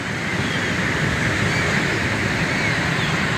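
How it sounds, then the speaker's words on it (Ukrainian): Sea waves breaking on a rocky shore with white cliffs on the Peruvian coast, a loud continuous roaring wash of surf filling the whole stretch with no voices. "Море."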